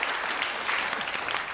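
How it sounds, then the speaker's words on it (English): Audience applause at a talk event in Stockholm, a steady dense wash of clapping from a crowd, continuous and even throughout. "let's give them some applause"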